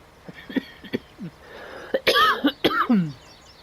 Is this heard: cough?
yes